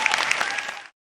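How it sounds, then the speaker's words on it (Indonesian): Brief burst of audience applause at a public lecture on national identity held in a Hong Kong stadium, dense clapping that cuts off abruptly after under a second. "Tepuk tangan ya, Pak."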